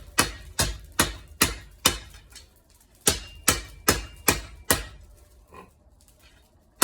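A hammer pounds mild steel flat stock on an anvil while a cutlass is forged, ringing blows in two quick runs of about five strikes each, close and sharp with short decays between.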